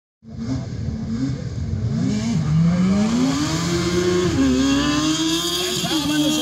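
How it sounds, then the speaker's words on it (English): A race car launches into a hill climb run at Mt. Washington, its engine rising loudly and nearby through the gears as it pulls away, then holding a strong, steady roar. "And Talman is away. Drifting it a little bit in that first corner"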